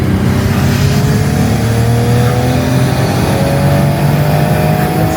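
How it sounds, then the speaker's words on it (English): Nissan Skyline R33 GT-R sedan with a big single TO4Z turbo revs hard on a dyno with rolling anti-lag, a loud, continuous engine roar with rising and falling pitch, close up and without talk. "we can get some rolling anti-lag going"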